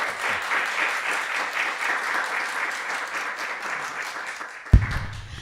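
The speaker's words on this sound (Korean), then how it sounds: "여러분 뜨겁게 박수로 환영해 주시기 바랍니다." A conference audience at a church education policy meeting applauds steadily, a dense sustained clapping that fills the room, ending with a sharp thump near the end.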